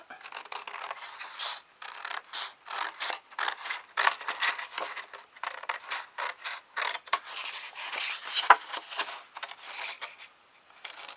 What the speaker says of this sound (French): Alors maintenant, je découpe juste ce que j'ai besoin. L'extérieur de la bande.